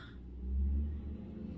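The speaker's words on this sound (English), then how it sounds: "it's very noisy with all the trucks" Trucks passing near industrial buildings make a low, steady rumble that swells briefly as one goes by and then settles back to a distant drone.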